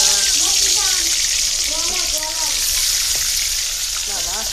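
Onions frying in hot oil in a home kitchen pan, a steady loud sizzle and crackle filling the whole stretch, with faint voices in the background.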